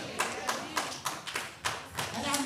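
A Baptist church congregation claps in a steady rhythm, about eight or nine distinct claps spread evenly, moderately near, with a preacher's voice talking over them.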